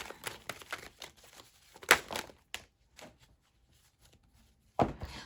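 Cards riffle and slap together in short bursts, close and fairly faint, with pauses between shuffles and a final sharp flurry.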